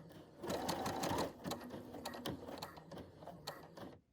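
A sewing machine stitches a button onto a fabric face mask, running slowly in a rapid even patter of needle strokes up close, then stopping abruptly.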